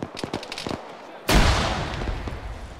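Loud grenade blast in a military shooter game, a sudden heavy boom with a long rumbling tail, preceded by a burst of rapid gunshots; brief voices are heard.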